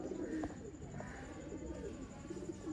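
Red-eyed pigeons of a breeder pair coo in soft, low, rolling calls that continue steadily throughout, close by, with faint background noise.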